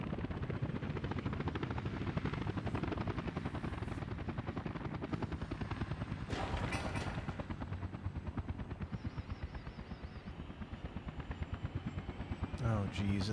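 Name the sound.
helicopter flying in Workers and Resources video game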